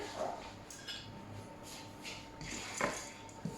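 A wooden spoon stirs seeds toasting in a dry pan for a couscous dish, making faint, intermittent scrapes and light rattles close by in a quiet kitchen.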